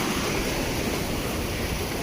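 Monsoon sea waves washing over rocky coastal ledges on the Konkan shore, a continuous close wash of surf and spray with wind noise, no voices.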